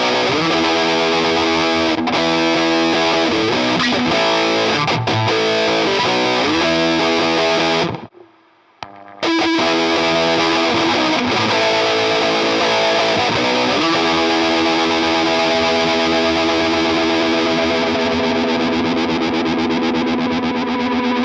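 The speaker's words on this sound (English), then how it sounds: "in the effects loop, I'm going to put the fab tone from Danelectro" Electric guitar run through a Danelectro Fab Tone distortion pedal and a J. Rockett Uni-Verb: loud, fuzzy sustained chords and riffs with a brief drop to near silence partway, then continuing, with no voices.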